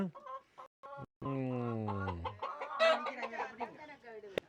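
Hen clucking in a Jaffna home garden, heard as a drawn-out descending call followed by choppy, busy clucks, mixed in with people talking nearby.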